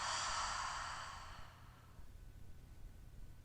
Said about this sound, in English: Nice deep inhale, exhale through your mouth.